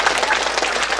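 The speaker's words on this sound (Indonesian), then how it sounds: "Tepuk tangan untuk yang semangat itu." An audience at an Islamic sermon breaks into steady applause, a dense, even clatter of many hands filling the space for about a second.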